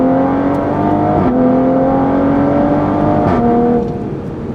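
Toyota MK5 Supra with a loud modified exhaust pulling hard in third gear, heard from inside the cabin: a steady rising engine drone climbs in pitch, dips briefly at about 1.3 s, climbs again, then eases off near the end.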